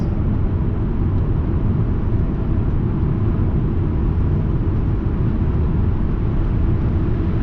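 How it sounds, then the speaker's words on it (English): Loud, steady rushing wind roar inside a moving 1996 Lincoln Town Car, a dense continuous low-heavy buffet with no pauses or voices. "A little bit of wind noise there"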